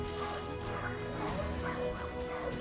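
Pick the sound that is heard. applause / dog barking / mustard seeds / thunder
dog barking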